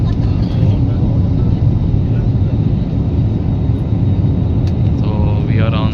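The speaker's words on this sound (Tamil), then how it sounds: "டேக் ஆஃப் ஆயிடுச்சு. பறந்துட்டோம்." A passenger airplane climbs just after takeoff from Madurai Airport, a loud, continuous roar of engines and rushing air filling the cabin, steady and unbroken throughout.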